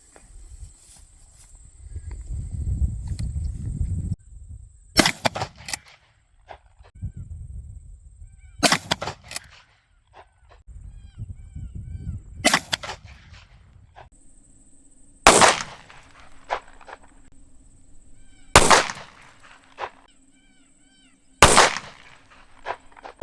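An Axor Bushpig 12-gauge shotgun fires Winchester Defender 1-ounce slugs, six loud, sharp booming shots spaced several seconds apart, each followed by a short echoing tail, with quiet outdoor rumble between them.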